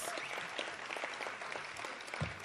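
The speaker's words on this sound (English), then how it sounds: "Please give them a big round of applause." At the SAMA 20 music awards nominees announcement at Carnival City, a crowd applauds steadily, dense clapping filling the whole stretch at an even, moderate level.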